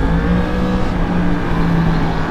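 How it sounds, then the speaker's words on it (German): A KTM motorcycle engine revs hard as the bike rides past on a country road, a loud, sustained, close engine roar that holds for the whole stretch with no talking. "Was ist das für eine Maschine, die er da fährt? KTM, ich weiß nicht, ob 97,"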